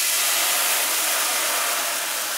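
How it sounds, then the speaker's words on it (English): Pinot Grigio white wine hits a hot pan of pork cutlets to deglaze, giving a steady, loud, close sizzle and hiss that holds evenly throughout with no talking. "it's already sizzling away and reducing"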